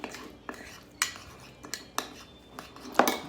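A metal spoon clinks against a bowl or jar while homemade burger sauce is tasted, several light scattered taps and scrapes up close, ending in one brighter ringing clink, with no talking.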